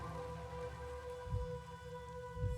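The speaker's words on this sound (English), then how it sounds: "It's a gentle rain, protecting us." Gentle rain falls in the video game Master Detective Archives: Rain Code as a soft continuous patter, layered under a sustained musical drone with two brief low rumbles.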